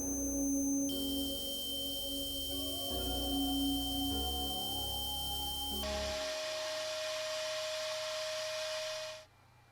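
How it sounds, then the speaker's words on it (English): Compressed-air pot blaster sandblasting heavy rust off the main tube of a BMW E30 700 kg emergency jack, a loud steady hissing roar with whistling tones that shifts midway and cuts off abruptly near the end. "I wanted to use the more powerful pot blaster on the main piece because of the amount of rust on the bottom"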